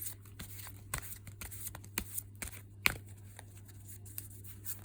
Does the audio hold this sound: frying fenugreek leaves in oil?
no